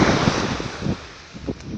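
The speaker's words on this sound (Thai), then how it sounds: "โอ้คลื่นแรงมากคือแบบคลื่นล่มแรง" Strong sea waves crash onto a beach in steady surging rumbles, with heavy wind buffeting the microphone throughout and a few heavier thumps as the surf breaks close by.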